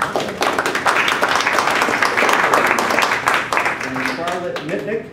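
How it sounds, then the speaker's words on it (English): An audience at a panel event on Korean War POW/MIAs gives a speaker a round of applause. The dense, steady clapping continues for several seconds before thinning, with voices rising near the end. "Another round of applause for John."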